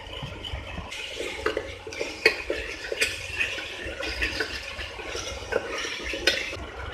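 A spoon scraping and clinking in a pot while tomatoes, chopped mint and coriander leaves fry in oil for tomato rice; quick metallic taps and stirring scrapes repeat closely, with a low cooking hiss beneath.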